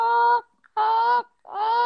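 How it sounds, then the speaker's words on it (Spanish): A turkey hen gives three loud, clear honking calls in steady succession, each lasting about half a second and separated by short pauses. "Esa era la pava."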